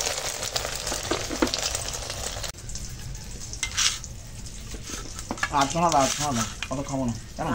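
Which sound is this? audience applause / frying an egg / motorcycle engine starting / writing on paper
frying an egg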